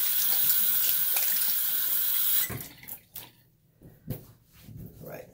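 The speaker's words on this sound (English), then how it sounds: "I'm gonna wash my hands off and we're gonna call this video done." Water runs from a tap during handwashing, a loud steady splash that stops abruptly partway through. Someone speaks briefly after the water cuts off.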